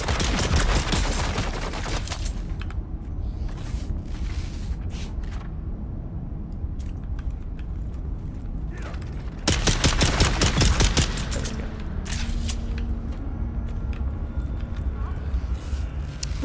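Enemy gunfire in the sci-fi video game Dune: Awakening, loud bursts of shots crackling throughout, densest early on and again in a heavy volley near the middle, with a voice talking over the action.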